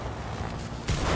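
A video-game explosion in It Takes Two bursts out suddenly partway through, a loud booming blast over steady game background noise.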